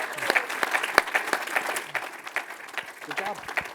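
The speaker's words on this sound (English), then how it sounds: "Big round of applause." Audience at a crypto panel event during Grand Prix Week in Fort Lauderdale clapping steadily at the close of the session, a close, dense round of applause with a voice speaking over it.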